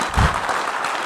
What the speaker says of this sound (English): You can clap for yourself again.